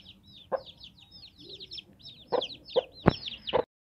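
Several Aseel hens and roosters cluck and chirp in quick, overlapping bursts, with a few sharper thumps and knocks nearby; no talking.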